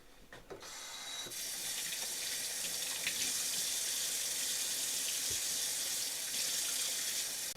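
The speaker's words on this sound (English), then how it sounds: "wash my hands again" Water runs steadily from a tap for hand washing, starting with a few brief knocks and then settling into a continuous, even splashing stream that lasts to the end.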